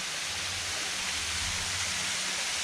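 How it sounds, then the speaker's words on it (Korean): Mānoa Falls waterfall in a Hawaiian jungle, its falling water and drops making a loud, steady broadband rush that fills the whole stretch without pause. "물방울 떨어지는 거?"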